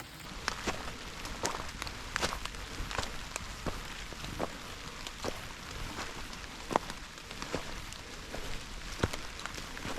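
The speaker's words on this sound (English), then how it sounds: "Starting to rain pretty hard now. I'm sure you can't see the rain, but I'm sure you can hear it." Heavy rain on a hiking trail patters steadily over a soft hiss, with scattered sharper drips and taps standing out, moderately loud and close.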